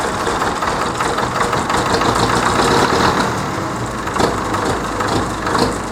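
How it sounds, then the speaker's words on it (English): A standby generator engine idles close by, a loud, steady mechanical rumble with a rough, knocking texture that runs unbroken throughout. "So it's idling now just to make itself happy"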